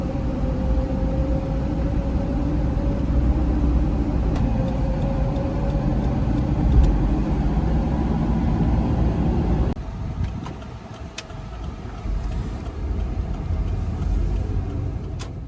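A fourth-generation Toyota 4Runner being driven, its engine and road noise a steady, loud rumble from inside the cabin that drops off abruptly near the end.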